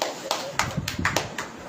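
Congregation clapping hands during a Hindi Christian worship song, a few sharp separate claps at an uneven rhythm, fairly faint and close, with a voice murmuring underneath.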